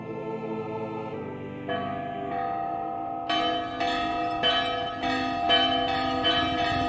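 A church bell on a roof in Runaway 3 rings out in a series of loud, ringing strikes, each note overlapping the last as the tones build and sustain.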